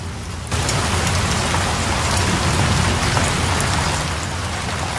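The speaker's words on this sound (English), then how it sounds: "The rain kind of just sounds out in the open" Dense, steady rain ambience from the Payday 2 video game: a continuous loud wash of falling rain hitting surfaces, constant throughout after a brief quieter start, with no voices.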